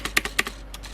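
Several sharp, close keystrokes on an Armageddon MKA 2C mechanical keyboard with red or blue switches, a quick irregular burst of clacks over about a second with no talking.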